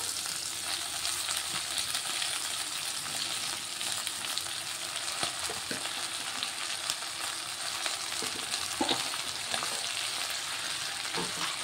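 Mint leaves sizzle steadily in hot oil for a peanut-mint chutney, a continuous close frying hiss with occasional crackles and faint stirring, without talk.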